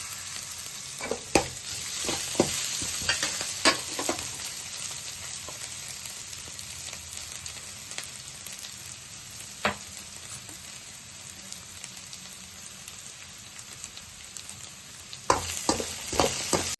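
Chicken for chilli chicken fries and sizzles in a pan with a steady, dense hiss, broken by sharp clinks and scrapes of stirring near the start and end.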